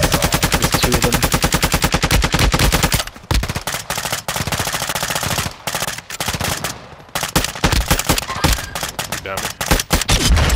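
Rapid automatic gunfire in Call of Duty Warzone Resurgence, loud, dense bursts of machine-gun fire with short pauses between volleys, players talking over it.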